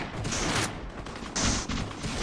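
Sniper rifle shots in a video game tournament match, a few sharp reports in quick succession over about two seconds, loud and close, with no talking.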